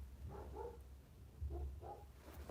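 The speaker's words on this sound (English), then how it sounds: "What the frick is my dog barking?" A dog barks indoors in two short bursts of a few yips each, moderately near but fairly quiet over a low background rumble.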